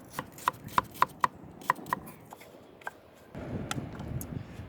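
A knife chops an onion on a board in a series of crisp, evenly spaced taps, close and clear, before a softer scraping rustle takes over near the end.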